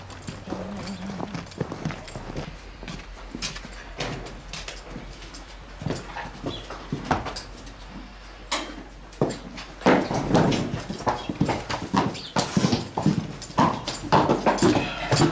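Horses walk along steadily with hooves clopping in an uneven rhythm, close and moderately loud, building busier and louder toward the end.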